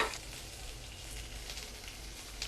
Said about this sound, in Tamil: அஞ்சு பல் பூண்டு, சின்ன வெங்காயம், கருவேப்பிலை இதையும் நம்ம போட்டு நல்லா தாளிச்சுக்கலாம்.